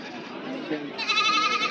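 Young male goat kids, about three months old, bleating at the Mecheri goat market in Salem: short, wavering, nasal cries, close and fairly loud, mixed with someone talking.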